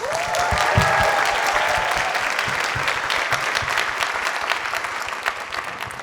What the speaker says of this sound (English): So I'll give them a huge round of applause.